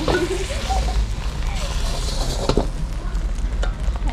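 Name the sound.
chef frying eggs, sizzling in the pan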